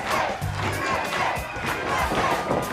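A wrestling arena crowd in the Wrestlicious video game roars and shouts continuously, loud and dense, with rising cheers swelling throughout.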